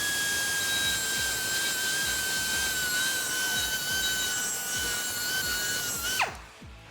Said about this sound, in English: you can grind down this weld a little bit just to take some of the sharp edges off